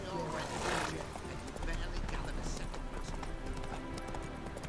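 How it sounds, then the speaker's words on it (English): Horse hooves clip-clop at a gallop with a whinny near the start, from The Witcher 3 game, heard over continuous game music and a voice in the background. "Okay. Come on, dale. Roach."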